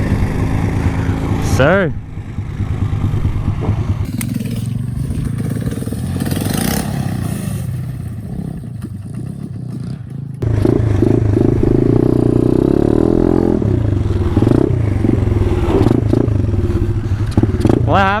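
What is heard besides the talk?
Taotao pit bike engine revving, spinning tires in mud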